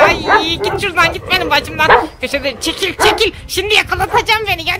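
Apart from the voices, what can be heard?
dog barking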